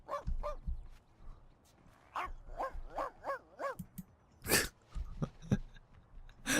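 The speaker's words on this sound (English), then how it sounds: "She sat there barking at him" A dog in The Sims 2 barks in several short, clipped bursts of yips, spread unevenly across the stretch, fairly close and moderately loud, with brief game sound effects in the gaps.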